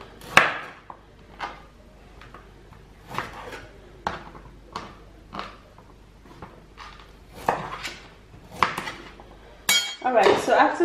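A knife dices carrots on a board in a home kitchen, giving a series of crisp, evenly spaced chops at close range with faint clinks between them and a brief clatter of utensils at the end.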